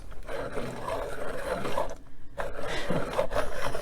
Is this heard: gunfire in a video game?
no